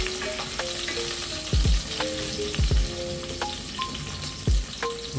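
Garlic, ginger and siling panigang chili sauté in a hot pan, a loud steady sizzle broken by several thuds and scrapes of a utensil stirring, no voices.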